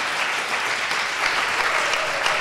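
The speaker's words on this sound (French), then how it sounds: "Peut-être un applaudissement." Studio audience applause fills the whole stretch, a steady, fairly close wash of many hands clapping with slight swells and no speech over it.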